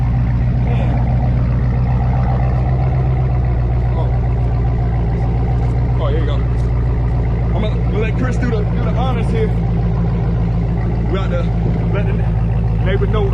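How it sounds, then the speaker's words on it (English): A 2022 Dodge Charger Hemi V8 with a 3-inch MBRP race catback exhaust idles with a deep, loud, steady exhaust rumble, occasional revs rising over it while people chat nearby. "This is my first time hearing this car with the new exhaust"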